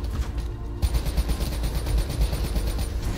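Rapid automatic gunfire in Call of Duty Black Ops 3, a dense burst of repeated sharp shots after a brief quieter lead-in, loud and continuous with no talk.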